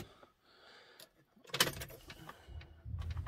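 Car keys jangle briefly in a BMW's ignition with a short metallic rattle, close and fairly quiet, followed by faint interior clicks and movement in the car.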